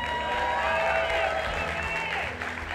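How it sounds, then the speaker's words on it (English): A church congregation cheers and applauds at a baptism, a dense wash of clapping and raised voices that swells and then begins to fade, with a voice speaking over it. "Ruby, they're cheering for you because you're part of our family, you know?"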